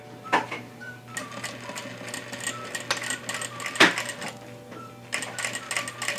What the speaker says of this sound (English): I'm going to go ahead and do a back stitch first